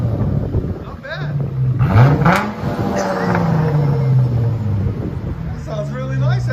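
A Dodge Challenger with a 3.6L V6 and Big Boys Exhaust revs up sharply twice, its loud, close exhaust note rising and settling to a rumbling idle between blips, with outdoor wind noise.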